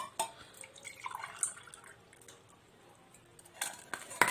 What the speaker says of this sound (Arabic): وادي حته التلج نزلت